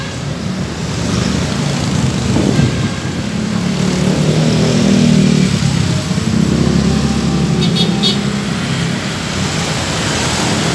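Road traffic in front of Mega Mall in Ortigas, with a continuous loud rumble of engines and passing vehicles across the whole stretch, swelling mid-way, with a faint beeping chirp near the end.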